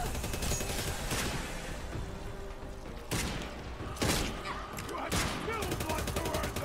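Rapid gunfire rattles through a Redfall video game firefight, dense bursts of shots with a few sharper cracks standing out, loud and continuous over a few seconds.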